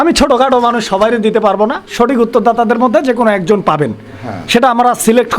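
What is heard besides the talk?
None of the usual background noises is heard.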